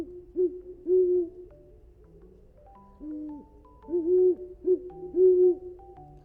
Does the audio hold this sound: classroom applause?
no